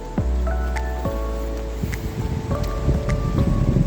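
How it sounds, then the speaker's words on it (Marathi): Heavy rain falls in a steady wash of noise in the Sahyadri hills near Ghatghar–Chondhe dam, with occasional louder drops and thuds close by, and no talking. "कारण जोराचा असा पाऊस आहे"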